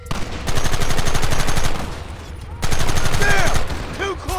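Gunfire crackles in a shootout from the video game Red Dead Redemption, with dense rapid bursts in two long volleys and a brief lull between them, while a voice shouts near the end.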